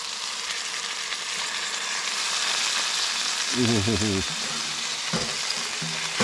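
Steady loud sizzling and crackling of meat searing in hot oil inside a hot tent while camping, with a brief voice and a few clatters partway through.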